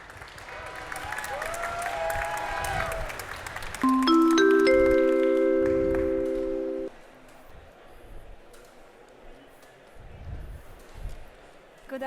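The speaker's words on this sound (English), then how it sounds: "Please welcome on stage with a huge round of applause, Csaba Gecse and Zsófia Sa" An audience at a tech talk applauds to welcome speakers on stage, the clapping mixed with a bright musical sting before it dies away into a quiet room.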